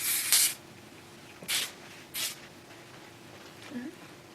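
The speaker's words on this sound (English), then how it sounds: "Grab your hairspray" Three short, close hisses of hairspray from an aerosol can, sprayed about 6 to 8 inches from a French braid, evenly spaced, followed by quiet room tone.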